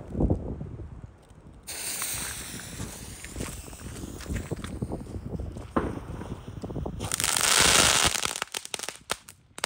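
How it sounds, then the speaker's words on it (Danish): Spanish cracker firecrackers going off outdoors in a dense run of sharp, snapping bangs and crackles, swelling into a loud burst near the end before a few scattered pops. "først så prøver jeg lige sådan en spansk cracker"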